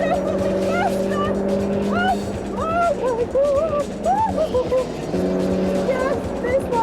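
A fast car drives on a road with a loud, sustained engine drone that rises and falls as it accelerates. Excited people talk and exclaim over it.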